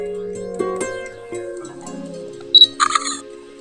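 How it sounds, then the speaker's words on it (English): An instant camera's shutter fires for a selfie, giving a short sharp click and whir near the mic, with a brief mechanical burst of ejection noise right after, over quiet room tone. "Now let me take a selfie."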